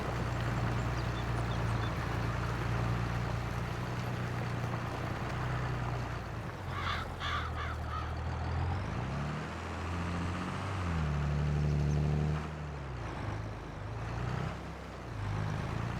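A John Deere 4840 tractor driving in Farming Simulator 22, a steady low engine drone that shifts pitch as it revs up and down, with a brief clattering burst midway and no talk.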